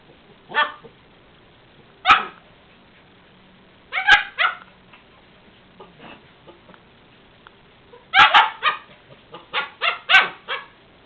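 A dog barks in several short bursts, some single and some in quick clusters of two or three, loud and close with quiet gaps between them.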